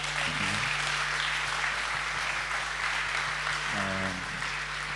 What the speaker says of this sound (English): give a big applause to everybody who showed up here